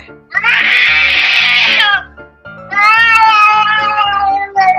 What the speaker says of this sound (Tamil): உங்க பூனை கத்திக்கிட்டே இருக்குதுன்ட்டு பக்கத்து வீட்டுக்காரு கம்ப்ளைண்ட்